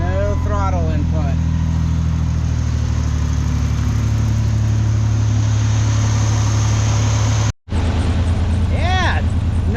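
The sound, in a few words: Ford Explorer engine running at idle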